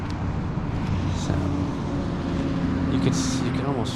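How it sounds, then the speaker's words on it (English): Road traffic passes along a street near a garden, a continuous broad engine and tyre rumble that swells and fades as cars go by, with a person talking over it. "listen to as the cars recede, the car noise recedes"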